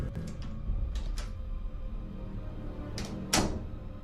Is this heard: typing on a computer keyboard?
no